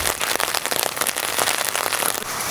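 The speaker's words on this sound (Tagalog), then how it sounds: "Umuulan na nga." Rain falling steadily and loudly, a dense close patter of drops on surfaces with no voices.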